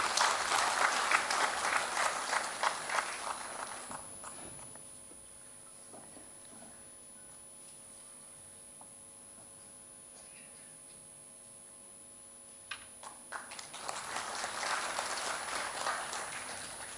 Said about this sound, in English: I request everyone to please give a big round of applause.